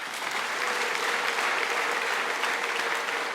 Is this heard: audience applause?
yes